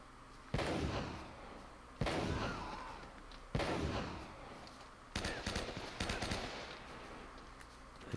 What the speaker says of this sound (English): The gun sounds so badass